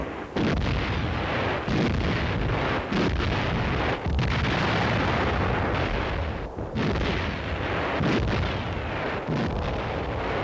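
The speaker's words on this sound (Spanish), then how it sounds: "La artillería soviética abrió fuego y durante 5 horas avanzó y retrocedió sobre las posiciones finlandesas." Soviet artillery barrage against Finnish positions in archival war footage, a dense, loud, continuous roar of booming blasts and rumbling detonations with wind-buffeted, distorted recording and no speech.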